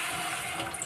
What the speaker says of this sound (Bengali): দেখো এবারে আমি একটু জল দিয়ে দেব।